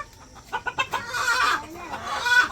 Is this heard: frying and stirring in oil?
no